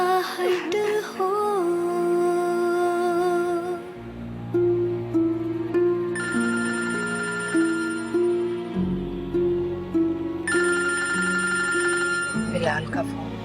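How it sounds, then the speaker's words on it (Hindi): A telephone bell rings in repeated bursts over a dramatic music score with sustained tones and shifting bass, no clear talk. "बिलाल का फोन।"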